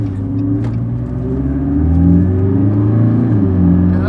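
A McLaren MP4-12C sports car accelerates hard, its engine note rising in pitch through a loud, close, sustained roar with a shift near the end, with no talking.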